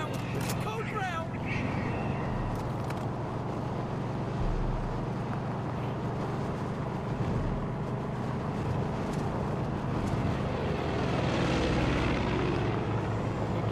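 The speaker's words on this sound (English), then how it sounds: "You can get the fighter jet." A fighter jet in the video game Far Cry 5 gives off a steady, loud roaring drone that lasts throughout, with a voice talking over it.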